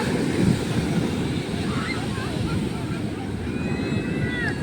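Sea waves at Puri beach in India roll in a steady broadband roar, with continuous surf washing close by and wind buffeting the microphone throughout.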